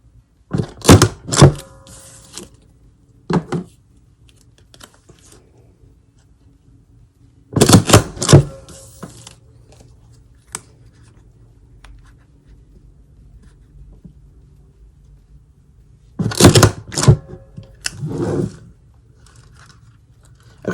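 Laminating machine feeding stickers through, heard as three separated bursts of loud mechanical rattling and clacking, the last ending in a jam, with near silence between bursts.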